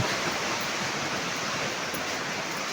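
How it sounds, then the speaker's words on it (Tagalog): Steady, dense rushing of heavy rain on a roof mixed with flowing water, loud and continuous throughout with no pauses. "Malakas, malakas ang ulan."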